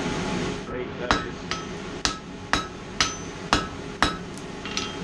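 Hot steel hammered on an anvil to forge a nose shape for a key rack, a series of sharp, evenly spaced metallic strikes about every half second, loud and close with ringing decay.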